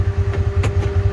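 A Kubota Sidekick 850 utility vehicle engine running in low gear, a loud, close, steady low throb with a rhythmic pulsing beat over the brief moment.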